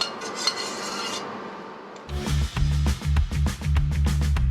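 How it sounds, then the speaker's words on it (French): A scrubbing, rasping sound is followed by rhythmic metallic scraping against a saucepan being cleaned, close up and steady, with no one speaking. "Je te nettoie la casserole"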